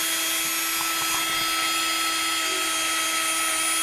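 A power drill works on a dirt-track factory stock race car motor, giving a steady, continuous high-pitched whine with a constant hum underneath and no talk.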